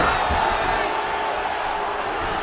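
A steady roar of an arena crowd cheering in the EA Sports UFC fighting game hums along at constant loudness, a dense wash of voices with no single shout standing out.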